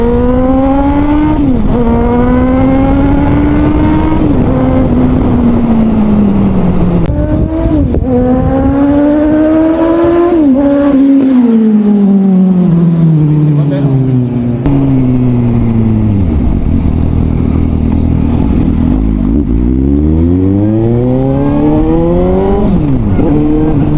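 A car fitted with a Midlink exhaust revs over and over, the loud, close engine note climbing and falling in long sweeps with a raspy exhaust growl throughout.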